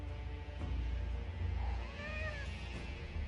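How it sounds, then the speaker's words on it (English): A cat meows in the video game Forspoken, a few short rising-and-falling calls around the middle of the clip, set over a steady low in-game ambience with no one talking. "It looks like one of those cat things. They're flying cats or teleporting cats."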